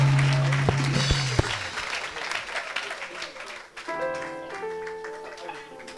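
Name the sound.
crowd applauding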